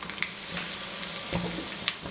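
Curry leaves sizzling in hot oil with mustard seeds, dried red chilli and cumin, a steady hissing fry with a few sharp crackles and pops, close and continuous.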